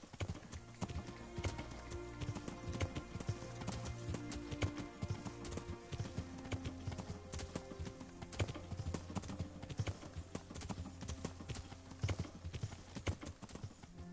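Horse hooves clip-clop steadily and rhythmically in the video game Kingdom Come: Deliverance, fairly faint and continuous, with a brief whinny in places and game music or ambience underneath.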